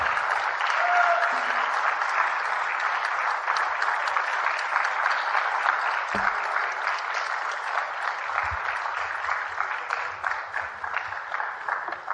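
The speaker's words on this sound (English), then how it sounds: "Let's all get on our feet and give him a warm round of applause." An audience claps for Micky Dolenz of the Monkees at a fan panel in Boxboro, Massachusetts: dense, sustained applause from a large crowd filling the room at steady loudness throughout, with a few faint voices underneath.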